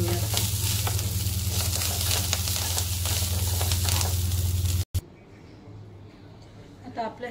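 Garlic, chili, cumin and coriander roasting in a pan give a steady, dense sizzle that cuts off abruptly near five seconds, leaving quieter background with a few light clatters.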